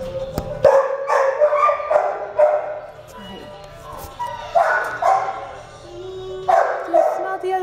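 A nervous small dog at an animal shelter gives a series of yips and barks in short bursts, close by, while people talk around it.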